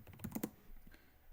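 A few quick keystrokes as a chmod command is typed on a computer keyboard, quiet close clicks bunched together at the start, then near silence.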